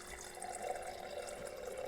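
Water pouring steadily from a refrigerator door dispenser into a container, a soft continuous trickling stream at close range with no speech.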